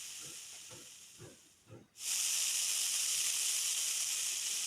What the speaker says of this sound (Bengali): কড়াইতে তেল দিয়ে তেলটা ভালো মতো করে গরম করে নিয়ে সেদ্ধ ডুমুরগুলো দিয়ে দেব।